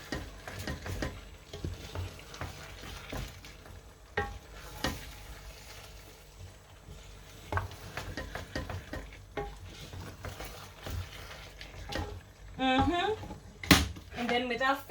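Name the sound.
stirring prawns in a pot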